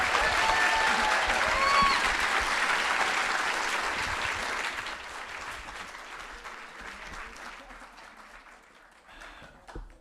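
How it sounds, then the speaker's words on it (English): Loud applause from an audience after a live performance at a premiere event, a full burst of clapping with a few whoops that gradually thins and fades out over ten seconds. "Please give us one more round of applause."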